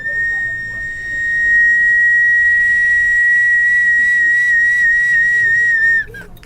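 A pre-Columbian Andean whistling water vessel gives a single sustained, pure, high whistle, loud and close, holding steady for about six seconds before cutting off abruptly.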